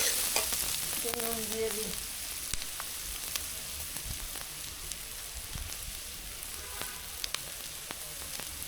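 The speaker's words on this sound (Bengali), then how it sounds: "ঝাল পেঁয়াজগুলো ভালো করে ভেজে নেব" Spicy onions sizzle and get stirred in a hot pan while cooking a Bengali fried eggplant dish, a steady frying hiss with scraping stirs, and someone speaks briefly near the start.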